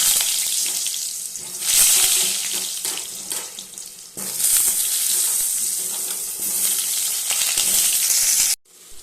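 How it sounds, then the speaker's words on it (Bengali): Potato pieces fry in hot oil for a fish curry, with a loud continuous hissing sizzle that swells in bursts as they are turned, close up and with no talking, ending abruptly. "আলুগুলো ভালোভাবে ভেজে নেব"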